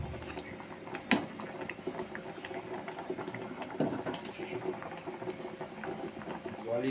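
Chicken and potatoes simmer in water in a pot, a soft continuous bubbling with occasional louder pops and clinks, fairly quiet and close.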